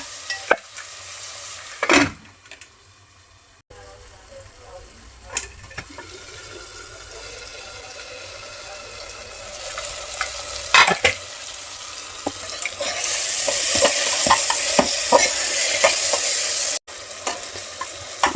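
Onion and tomato cook in a pan, with intermittent scrapes and clatter of stirring, then a louder rising sizzle and hiss toward the end.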